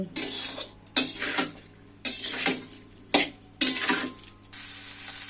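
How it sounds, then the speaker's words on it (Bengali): Jackfruit frying in a pan with salt and turmeric, stirred in several bursts of scraping and clattering over a steady low sizzle, with quiet pauses between strokes. "লবণ আর হলুদ দিয়ে আমি কাঁঠালটা ভালো করে ভেজে নিব"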